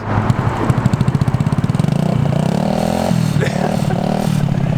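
A modified scooter engine revs loudly and close by, its rapid sputtering pulses quickening into a sustained buzzing drone that holds high for several seconds.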